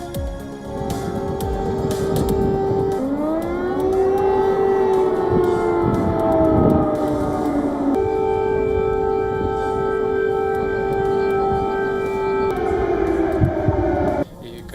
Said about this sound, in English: Air raid sirens sound in Kiev